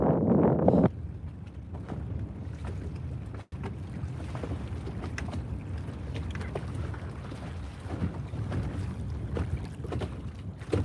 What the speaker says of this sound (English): Can you guys hear the wind out here?